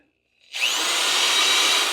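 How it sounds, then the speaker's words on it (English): A drill spinning a small wire brush against rusty metal on a 1972 Mercedes 280SE 4.5 starts up abruptly after near silence, then holds a loud, steady whirring scrape. "I start out with one of the smaller brushes on the drill"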